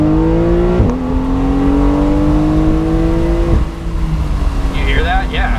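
A 2020 Porsche 911 Carrera 4S 992 Cabriolet engine pulls hard through the revs, its rising tone broken by a quick gear change, loud and close throughout, then fading slightly as another shift comes near the end.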